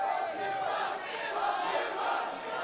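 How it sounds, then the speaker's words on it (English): A large wrestling crowd at a Juggalo Championship Wrestling show chants loudly and steadily in unison, a dense roar of many voices without pause. "Who would have thought a room full of juggalos would count to 10?"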